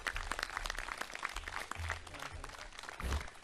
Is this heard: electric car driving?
no